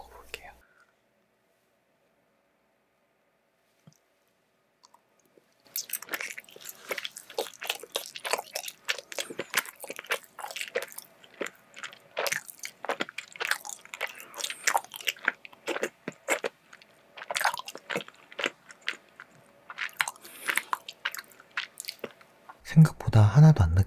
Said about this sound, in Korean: 먼저 딸기 속부터 먹어볼게요